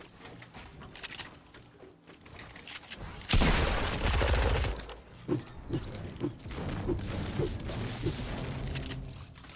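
Gunfire in the Fortnite video game, a dense burst of rapid shots lasting about two seconds, followed by scattered single reports and mechanical clicks, loud and close.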